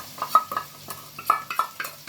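Spice paste cooks in a pan alongside part-fried potatoes for a bottle gourd stem and poppy seed dish, with a quick run of sharp spatula clinks and scrapes over a faint sizzle.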